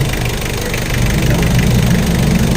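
Mitsubishi Adventure engine revving during an EGR valve check, a steady loud rumbling drone with a knocking pulse that swells slightly toward the end, with no talk.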